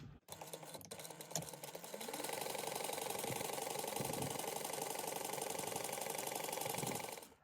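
Sewing machine stitching a 3/8 inch seam: a few clicks and handling knocks, then the motor runs up into a fast, steady mechanical whir of stitching for several seconds before stopping, close by with no talking.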